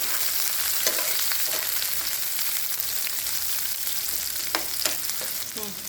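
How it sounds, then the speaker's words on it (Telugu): Green chillies and onions frying in a pan for a brinjal curry, a steady close sizzle with scattered scraping stir strokes and light clicks and no voices. "సో వీటిని బాగా ఫ్రై చేసుకోండి."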